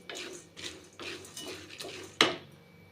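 Ingredients for laddu are dry-roasted in a pan, with a spatula scraping and stirring in a steady rhythm about every half second, ending in a sharp metallic clank; close, with no speech.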